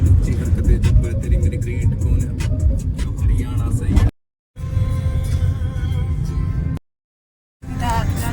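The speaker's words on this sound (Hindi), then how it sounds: "गाड़ी आ रही है।" Road traffic near a town in India, a vehicle approaching with a continuous rumbling engine and road noise, loud and close, broken by two short silent gaps, with some talk present.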